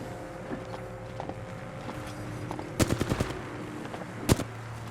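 Gunfire in the video game Apex Legends: a quick burst of several rapid shots, then one more loud shot a moment later, over a low game background hum.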